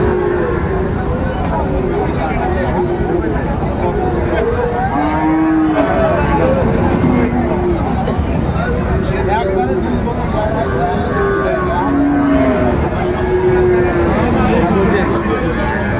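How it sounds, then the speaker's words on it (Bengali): Friesian and crossbred bull calves moo repeatedly, some calls near and some farther off, over a constant hubbub of people talking at a busy cattle market in Raniganj. "এই যে আমার ক্রোজ জাতের ষাঁড় বাছুর গরুগুলো বেচা কেনা হচ্ছে"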